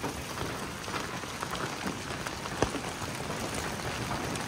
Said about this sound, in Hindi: ओले ज्यादा बारिश कम है